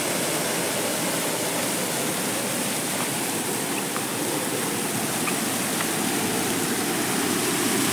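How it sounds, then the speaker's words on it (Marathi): Artificial waterfall built by a plant nursery at Gavkond pours in a steady, full rushing wash of water that stays constant and close throughout, with no talk over it. "आणि या साईडला आर्टिफिशियल धबधबा बनवला आहे."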